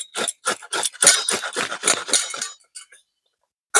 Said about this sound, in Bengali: আদা রসুন গ্রেট করে নিয়েছি